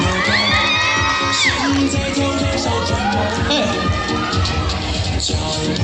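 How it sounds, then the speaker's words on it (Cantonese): A large crowd of children at a live stage show shouts and cheers, with whoops and excited calls rising and falling steadily throughout and a constant hubbub of young voices underneath. "俾啲掌聲佢哋好唔好啊？"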